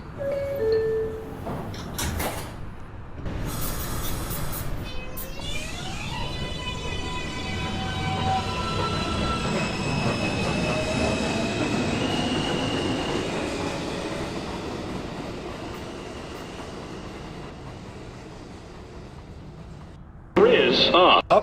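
A New York City subway 2 train pulls into a station with a rising rumble, squealing wheels and clattering cars, loud and sustained. A recorded announcement plays at the start and the end.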